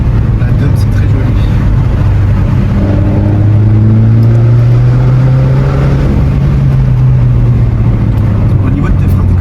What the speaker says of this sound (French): On entend vachement la dum, c'est très joli.